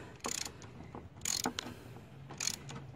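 Ratchet working a sway bar link bolt loose on a 2004 Honda Odyssey, giving three bursts of rapid clicking spread across the moment, with quieter mechanical rattles in between and no talking.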